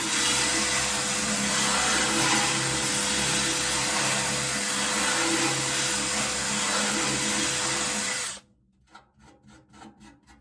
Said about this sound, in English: what I use is one of these flapper discs, little flapper discs on a drill